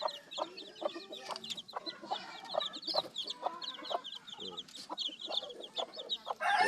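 A brooding hen with eight newly hatched chicks, soft repeated clucks mixed with high, rapid peeping from the chicks, close and fairly quiet.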